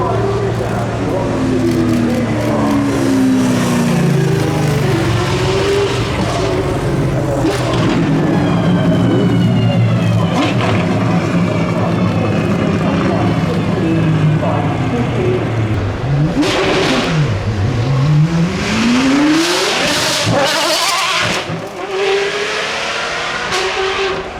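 A 2018 Apollo Intensa Emozione, an Australian-built supercar, screams up a hill climb, its loud engine revving hard with rising and falling gear-change sweeps and a steady close roar throughout, with talk underneath.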